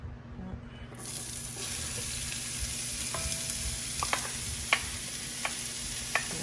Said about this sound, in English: we're gonna start with sauteing our onions